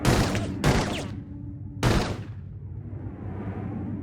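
Gunfire in the Blade Runner video game: two or three loud, sharp shots in quick succession, each with a ringing tail that fades into a low, hollow decay.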